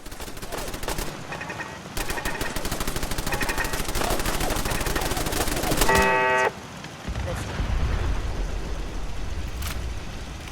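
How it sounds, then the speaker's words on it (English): Automated defense turrets in Fallout 4 fire long, rapid bursts of machine-gun-like shots, loud and close, broken by brief pauses and followed by a deep rumbling blast. "Amazing thing is how far the turrets shoot."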